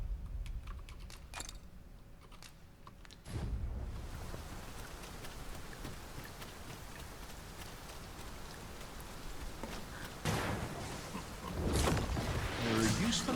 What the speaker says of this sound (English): It started raining, Master.